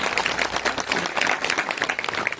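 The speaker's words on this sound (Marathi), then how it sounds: "म्हणून आपणच एकदा आपल्याकरता जोरदार टाळ्या वाजवा" Audience at a kirtan in a village gathering applauding loudly, a dense, sustained burst of many hands clapping close by, with no talk over it.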